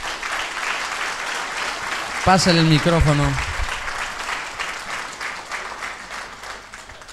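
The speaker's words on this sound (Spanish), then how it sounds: "Fuerte las palmas" A congregation claps in church during a wedding service, a steady round of applause filling the room while someone speaks over it briefly.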